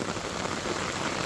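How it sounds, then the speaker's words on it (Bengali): Heavy rain falls on paddy fields during the monsoon, a short burst of loud, steady, close hiss from dense drops with no voices. "এই যে দেখেন কি পরিমাণে বৃষ্টি পড়তেছে, দেখেন"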